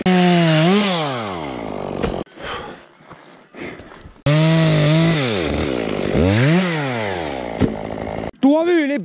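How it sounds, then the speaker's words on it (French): A chainsaw cutting wood during tree pruning above a road whines loudly, revving up and down in rising and falling sweeps, with short pauses between cuts and a few brief bursts at the end. "Tu as vu les petits coups de tronçonneuse à la fin?"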